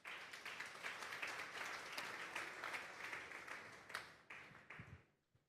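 A church congregation at a Sunday service claps together, a fairly close, lively round of applause with a few sharper individual claps, fading out over the final second.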